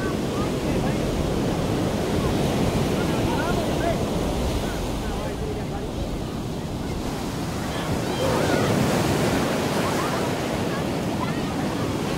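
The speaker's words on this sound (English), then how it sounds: "Swell's picking up again because of the low tide." Ocean surf rolls onto a beach with a building swell at low tide, a continuous loud roar of breaking waves mixed with wind buffeting the microphone throughout.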